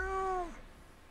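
A single drawn-out meow from a player imitating a cat over Planetside 2 voice chat, the voice sliding downward before fading into quiet background hiss.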